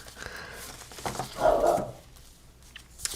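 A single dog bark rings out nearby, brief and fairly loud, with quiet room sounds before and after.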